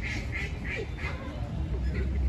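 Ducks quack in a rapid series of nasal calls outdoors in downtown Indianapolis, with a voice talking over them and a steady city background.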